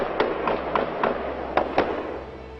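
Six sharp gunshots fired at an irregular pace from a hidden gunman ambushing police officers at a family domestic call, heard on a recording, each crack echoing over a low rumble, with no speech.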